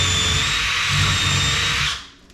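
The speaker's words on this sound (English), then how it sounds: "I'm going to work my way down, pre-drill." A power drill pre-drilling kitchen cabinet stiles whirs steadily at close range for about two seconds, then cuts off abruptly and winds down to quiet.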